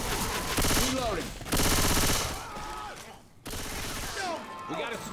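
Rapid bursts of automatic gunfire from the Left 4 Dead 2 Cold River campaign, loud and close, coming in several long volleys with brief gaps between them.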